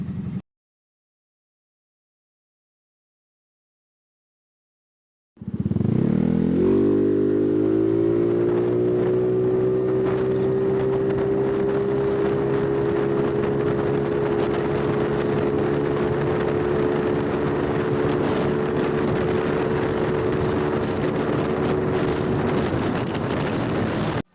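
After several seconds of silence, a Yamaha Mio 155 scooter engine fitted with an NMAX ratio starts up and holds a steady loud drone with wind buffeting, as if riding at speed.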